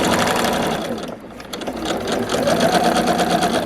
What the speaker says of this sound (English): we are stitching one short end here